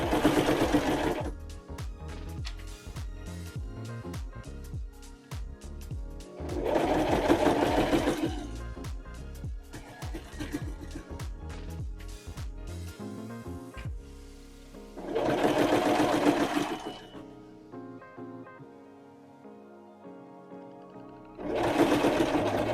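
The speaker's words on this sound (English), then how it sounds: "keep the edge of your fabric right along the 3/8 seam line that's on the plate on your sewing machine" A sewing machine stitches fabric around the curve of a handmade bag in bursts of rapid, close mechanical whirring, stopping and restarting several times with quiet pauses between runs.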